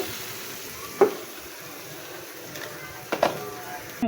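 Spice paste sautéing in a pan for a pangas fish curry, a low steady sizzle broken by a few sharp spatula knocks and scrapes against the pan.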